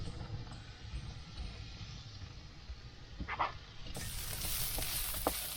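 Onions frying in a pan inside a campervan, a soft, steady sizzle heard up close with a few faint clinks of stirring and no talking.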